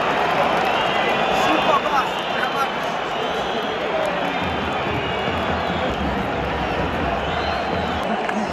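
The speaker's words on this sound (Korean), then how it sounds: "10만 명이 막 야유 하니까." A stadium crowd of about 100,000 in Barcelona booing, a dense, continuous roar filling the whole stretch at steady loudness, while a nearby voice talks over it.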